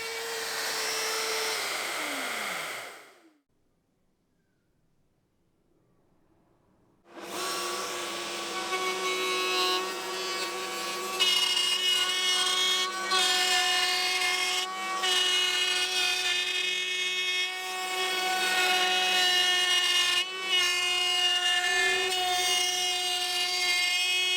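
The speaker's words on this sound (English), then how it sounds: "I routed these grooves in several passes, dropping the route a little bit each time" A handheld router cuts grooves in pine over several shallow passes, a loud, steady high whine with shifting pitch that runs continuously after a brief early burst and a few seconds of silence.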